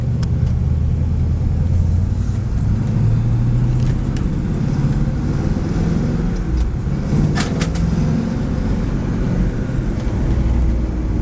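A 1968 Camaro Z28 with a four-speed drives along, its V8 a steady, loud, low rumble with road noise throughout and a few brief faint clicks and rattles near the middle.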